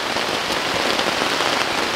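Heavy rain pounds steadily on a tent during a solo camping trip in a Kalimantan storm, a dense, loud, unbroken hiss of drops with no voices.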